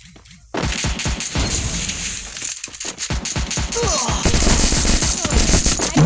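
Rapid automatic gunfire from enemies in a video game rattles in sustained bursts after a brief quiet start, loud and close, with overlapping shots and cracks throughout.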